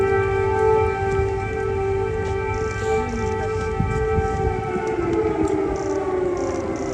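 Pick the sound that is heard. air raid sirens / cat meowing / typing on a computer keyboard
air raid sirens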